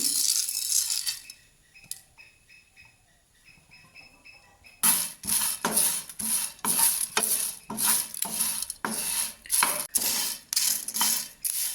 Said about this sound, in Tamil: இப்படி நீங்கள் 2 நிமிஷத்துக்கு தொடர்ச்சியாக மிதமான தீயில வறுக்கணும் நல்லா.